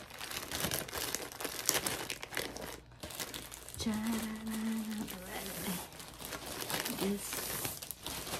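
The box of a memory foam pillow is torn and opened with loud, close crinkling, crumpling and ripping of packaging, while someone talks briefly over it.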